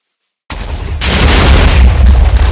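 A bomb explosion in the End dimension of Minecraft, a sudden loud booming blast after silence that swells into a heavy, sustained rumbling roar.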